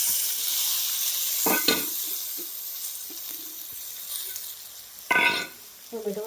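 Roasted green, unripe tomatoes are stirred in a hot pan, giving a quiet background sizzle broken by a few sharp scrapes and clinks of the spoon.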